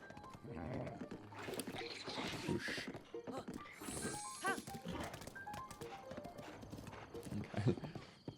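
Horse hooves clip-clop in the video game Breath of the Wild, with steady hoofbeats running through the clip alongside game sounds and a voice talking over them.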